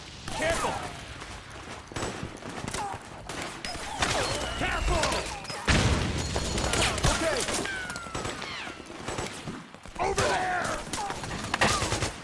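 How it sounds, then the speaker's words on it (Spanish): Gunfire in the video game Metal Gear Solid 4: Guns of the Patriots, scattered bursts and fusillades at moderate level with mechanical clanks and thuds, mixed with game voices. "Pero es que ellos se van pegando tiros y tal."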